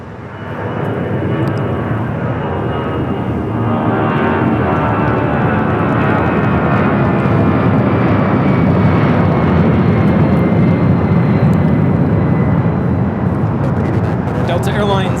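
A sports charter jet at LAX produces a loud, sustained engine roar that rises and stays strong through the whole stretch, with a voice talking briefly over it.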